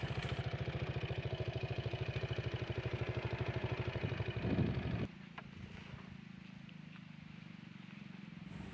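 A parked motorcycle idles with a rapid, even chugging pulse, loud and close, then cuts off abruptly partway through, leaving only quiet ambient hiss.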